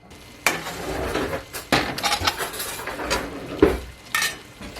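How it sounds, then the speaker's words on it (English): A spoon scrapes and knocks against a pot while stirring rice in tomato sauce for Mexican restaurant-style rice, with close, irregular clacks over a soft sizzle and no talking. "we're going to stir this around and go ahead and let that tomato spice be cooking into the rice"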